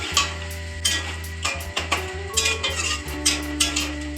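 A spoon scrapes and clinks rhythmically in a pan as spices and water are stirred for Bengali street-style ghugni, with a soft simmering sizzle underneath and repeated close metallic scrapes roughly every half second.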